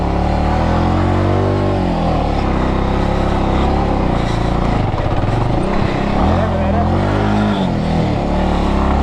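A car's engine revs hard and strains as it climbs an off-road slope near Munnar, tyres slipping and losing grip. The engine drone is loud and continuous, rising and falling, with voices talking over it.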